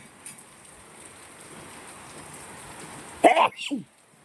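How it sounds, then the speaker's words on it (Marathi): Sudden heavy rain pours down in Pune as a steady, dense hiss, and a voice breaks in briefly near the end. "अचानक पावसामुळं कस ये जोरात पाऊस आला"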